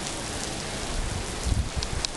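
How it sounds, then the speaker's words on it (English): Heavy rain from Hurricane Dolly pours down in Mission, a dense, steady hiss with a few louder gusts and close drops toward the end. "I think we're about to see more of the heavier rain."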